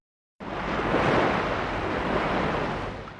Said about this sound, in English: The waves were huge,